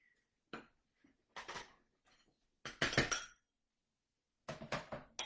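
A hand flour sifter works flour for holiday squares in a kitchen, giving a few separate bursts of metallic rattling and clinking, each lasting under a second, with short quiet gaps between them.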